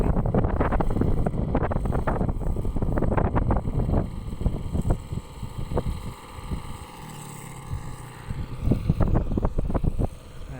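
A small motorized backpack blower for broadcasting rice seed runs in an open paddy field, its engine roaring loud and steady with gusts of wind buffeting the microphone, easing off briefly before revving again.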